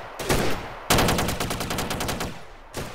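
Gunfire in the SAMP video game: a short burst, then a longer rapid automatic volley of loud, close shots, followed by one more burst after a brief pause.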